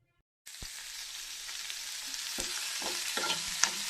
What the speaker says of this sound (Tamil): ஒரு பாத்திரத்தில் கொஞ்சம் எண்ணெய் ஊற்றி கடுகு உளுத்தம்பருப்பு போட்டிருக்கேன்